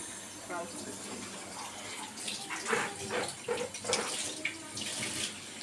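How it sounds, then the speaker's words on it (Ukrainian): Water runs from a kitchen tap in a Swiss home kitchen, a steady splashing stream that swells and dips as something is held under it. "Я прямо з крана п'ю і не чую великої якоїсь сильної різниці"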